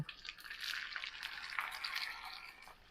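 Soft, steady crackling sizzle of seaweed chips frying in hot oil, fairly quiet and continuous with no voices.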